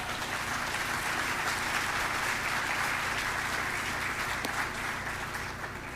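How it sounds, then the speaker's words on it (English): A crowd claps steadily at an education celebration marking the East County Education Center's first anniversary, with dense, sustained applause filling the whole stretch at an even level before easing slightly at the very end. "Let's give a round of applause."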